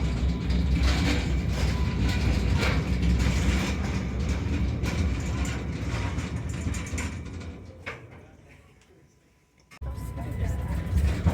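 A freight train rolls past near a coal mine in the New River Gorge, West Virginia, its steady low rumble and clatter filling the air for several seconds before dropping away to near quiet, then surging back, with voices talking over it.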